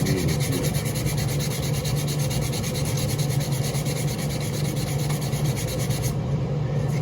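An axe handle is polished with a steady, continuous rubbing and sanding scrape, close and fairly quiet, with no pauses or talk.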